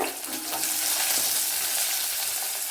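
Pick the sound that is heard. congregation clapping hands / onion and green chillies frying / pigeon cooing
onion and green chillies frying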